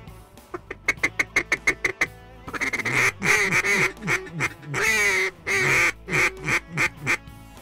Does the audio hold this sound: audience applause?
no